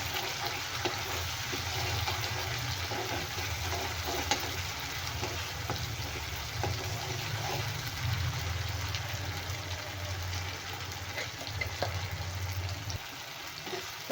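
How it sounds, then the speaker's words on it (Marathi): Green-chili spice paste, ground without water, fries in hot oil for soya chunk gravy, with a constant soft sizzle and occasional stirring scrapes, close and steady throughout. "मसाला तेलात छान भाजून घ्यायचा आहे तेल सुटेपर्यंत"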